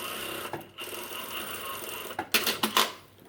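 A sewing machine top stitching a knit hem on a cowl neck knit top, a steady mechanical whir running through most of the clip, then a few short louder bursts near the end.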